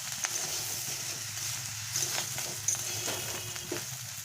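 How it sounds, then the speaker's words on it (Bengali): Cut flat beans and eggplant frying in a pan, a steady close sizzle with soft scraping and stirring clatter throughout, no talking. "এবারে আমি এর মধ্যে কেটে রাখা সিমগুলো দিয়ে দেব আর বেগুন দিয়ে দেব। দিয়ে ভালো করে আমি আবার সবজিগুলোকে মিশিয়ে নেব।"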